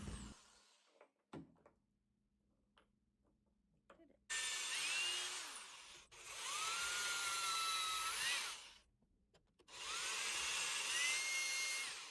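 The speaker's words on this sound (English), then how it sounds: "I used a 1/2 inch drill bit to drill about 1/2 inch." A half-inch drill bit bores into wood in three bursts, each a loud whining grind lasting about two seconds, with brief quiet gaps and small knocks between them.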